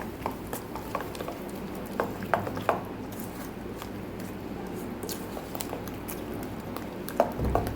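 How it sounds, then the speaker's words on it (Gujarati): A spoon works through moong dal idli batter mixed with fruit salt and oil, giving soft, irregular squelches and light scrapes against the bowl, quiet and close, scattered over a low background hum. "મિક્સ કરી લઈશું સરસ."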